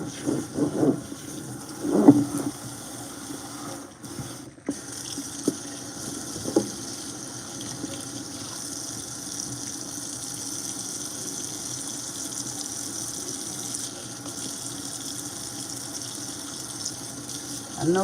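Water runs steadily from a tap while hair is rinsed during a hair wash, a constant soft hiss with a few light bumps and splashes early on.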